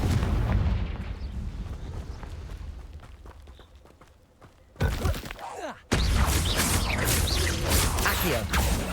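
Confringo blasting spells explode in the Hogwarts Legacy video game, with a low rumbling barrage and then two sudden, loud, close blasts that crack out in quick succession.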